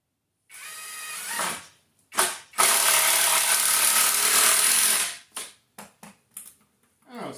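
A DeWalt DCF887 quarter-inch impact driver drives screws in loud bursts, with a long buzzing run of rapid impacts, then short stop-start pulses.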